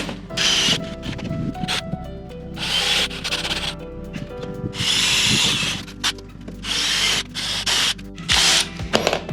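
A power drill with a 5/16 bit bores through a 3.5-inch-thick RV roof while a 12-volt air conditioner is being installed, sounding in loud whining bursts separated by short pauses, close up with no talk.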